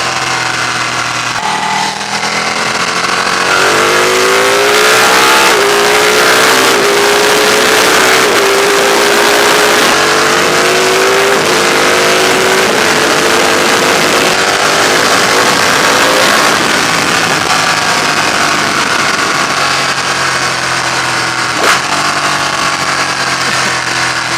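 A Ducati Panigale 1299 S sport motorcycle on a fast, bumpy road ride, its engine droning loud and steady throughout, pitch rising through the revs and stepping down at gear changes, close and continuous with wind roar.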